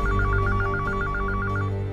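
A landline telephone rings with a rapid electronic trill, pulsing evenly for nearly two seconds over a low background hum.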